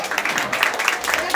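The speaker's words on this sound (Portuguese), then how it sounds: "Vamos aplaudir aí o nosso amigo Ricardo" Applause from spectators greeting a race finisher named Ricardo at the Serra do Navio 32nd anniversary race, a dense, steady patter of many hands filling the whole short burst, loud and unbroken.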